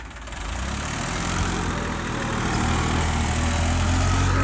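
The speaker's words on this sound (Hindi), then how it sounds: "39 HP में होने के बावजूद देखिए ट्रैक्टर कितना शानदार चल रहा है।" A 2018 New Holland 3037 tractor with a 39 hp engine runs with a tiller attached, its close, loud, steady diesel drone rising slightly in strength as it works.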